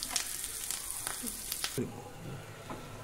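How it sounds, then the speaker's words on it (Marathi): Garlic frying in oil for a black pomfret fish fry, a close, bright sizzle with a few stirring clacks that drops to quieter bubbling midway, with a voice talking over it. "हे लसूण आमी तळशीर आसा"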